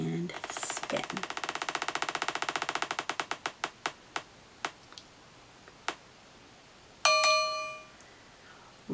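A spinner wheel ticks rapidly as it spins to pick a book, the clicks slowing and spacing out until it stops, followed by a bright chime; no voice is heard.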